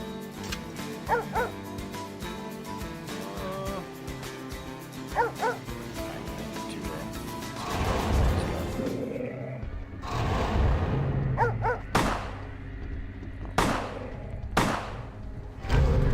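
A dog in Vampire the Masquerade Bloodlines barks and yips in loud bursts, then whimpers, with thuds mixed in, the sounds growing sharper and more broken toward the end.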